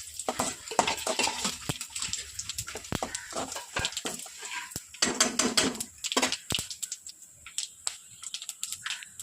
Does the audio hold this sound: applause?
no